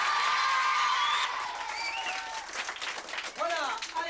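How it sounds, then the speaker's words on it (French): Brief applause from an audience of a French school, rising amid talk and crowd noise, with a whistle-like tone fading early on. "Rachel, qu'on peut applaudir, Rachel."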